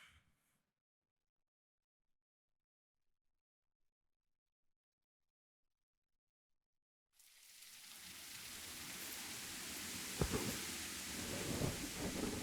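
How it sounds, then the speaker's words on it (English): A game engine's thunderstorm effect starts after several seconds of silence: a steady hiss of heavy rain, then loud thunder cracks and rumbles rolling over it, with no speech. "We can even change this sunny day into a thunderstorm"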